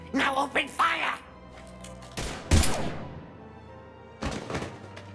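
Gunfire erupts in the video game Mass Effect 3: Legendary Edition, with heavy thumping shots and bursts following a spoken line, loud and close, trailing into further blasts with ambient game sound.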